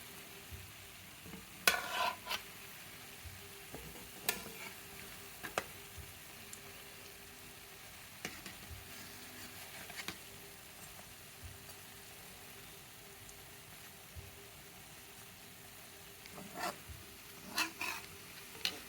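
Gulab jamun balls fry slowly in oil with a low, steady sizzle, broken by occasional soft clinks and scrapes of stirring, quiet and close with no talking.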